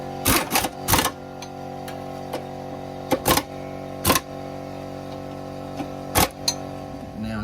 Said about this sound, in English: got our impact wrench again